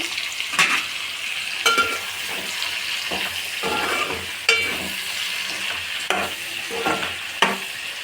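Spoon scraping and stirring dried fish tomato curry in a pan, with repeated sharp clinks against the metal over a soft background sizzle, no voices.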